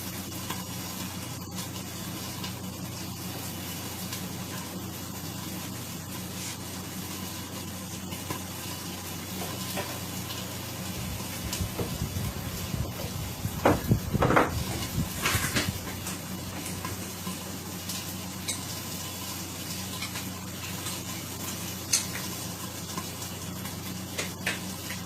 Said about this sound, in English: so a little sizzling in here